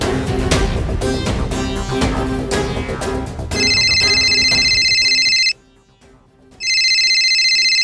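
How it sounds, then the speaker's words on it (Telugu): A phone ringtone trills loudly in repeated bursts with a brief silent gap, following a stretch of busy, loud background sound. "గౌరీ అన్న ఇప్పుడు కాల్ చేస్తున్నాడు."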